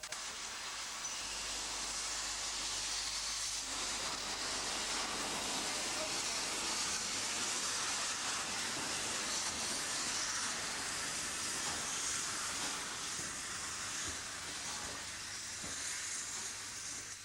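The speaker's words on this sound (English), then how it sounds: "Before passenger trains can get underway, there's some shunting to do, and Royal Engineer number 198 proves to be the ideal engine" A Hunslet steam locomotive, Royal Engineer No. 198, shunting on a preserved line: a continuous loud hiss of escaping steam fills the whole stretch, with a low rumble underneath and no break in the sound.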